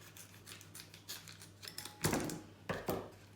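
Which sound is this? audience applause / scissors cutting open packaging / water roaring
scissors cutting open packaging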